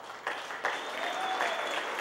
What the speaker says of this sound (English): we really need to give a round of applause for our custodians